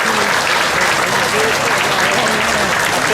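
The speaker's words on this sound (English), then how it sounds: "One more round of applause for Pat Snyder" Festival crowd at the Hmong Wausau Festival applauding Pat Snyder, loud, continuous clapping with cheering voices mixed through it.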